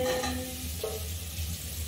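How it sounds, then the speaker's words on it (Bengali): Fried soybean chunks and potato pieces go into a kadai with a steady low sizzle and a faint stir, quiet and close. "এই যে সয়াবিন আলু ভাজা আছে, এটাকে এখন দিয়ে দিব কড়াইয়ের মধ্যে"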